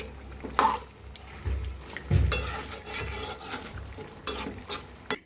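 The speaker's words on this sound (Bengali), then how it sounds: "এখন আমি এই টমেটো আর হলো এই মাছ একসাথে একটু কষিয়ে নেব।" Tomato and a rohu fish head stir-fry together in a pan for a muri ghonto with moong dal, giving steady sizzling with scraping spatula strokes and occasional clinks against the pan, close and continuous, with no talking.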